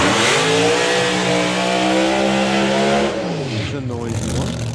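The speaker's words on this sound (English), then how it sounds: "It's a noisy one. Of course it is. It's got a screw-blown Hemi in it." A drag racing car's screw-blown Hemi engine revs hard at a doorslammers meet, a loud sustained roar with rising and falling pitch, close and overpowering, and the note shifts sharply near the end.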